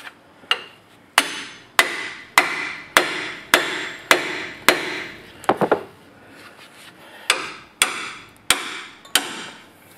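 Hammering a lower ball joint into a car's lower control arm: loud, close metallic blows at a steady pace of roughly one every half second, with a brief pause and a quick double tap midway.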